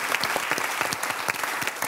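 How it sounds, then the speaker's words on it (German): Studio audience on a German talk show clapping, a dense, steady burst of applause filling the room with no talk over it. "für den Heldenmut geklatscht"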